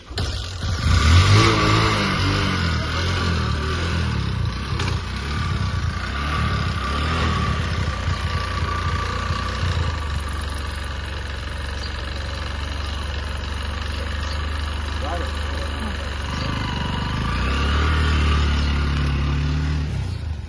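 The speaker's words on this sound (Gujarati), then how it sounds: "રોહિતભાઈ પાછા જાય બાઇક ઉપર." A motorbike engine fires up with a loud burst, then runs in a rumbling idle with uneven revs before swelling again as the bike rides off, close by, with no voices.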